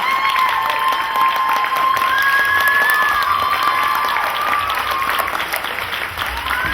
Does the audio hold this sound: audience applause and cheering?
yes